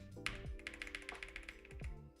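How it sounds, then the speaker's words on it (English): Computer keyboard keys tapped close by in a short burst of light, irregular clicks, sitting over a steady low hum with faint tonal background. "Let's just use the keyboard."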